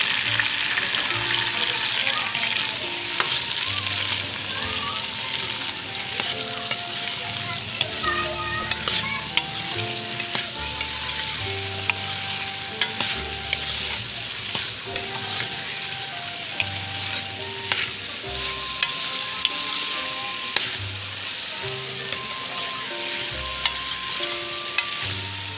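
Okra and potatoes fry in a pan with a continuous crackling sizzle, while a utensil scrapes and stirs through them in frequent small clinks and scrapes, close and fairly loud.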